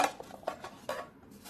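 Metal backpacking cook-kit pans from a Firebox kit clink and rattle as they are handled, giving several sharp, close metallic knocks spaced unevenly across a quiet background.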